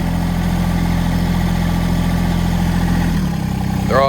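A tractor engine idles steadily and loudly up close after the front end loader is lowered, its low drone holding even before the pitch drops slightly near the end as it is throttled down.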